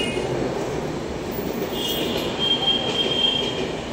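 A slow local commuter train runs along the rails with a loud, steady rumble from inside the carriage and a faint high wheel squeal partway through.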